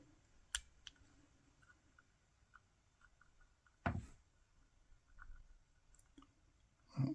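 Small metallic clicks from pins being picked in a lock, a few sparse, faint ticks with one sharper snap partway through, in a quiet room.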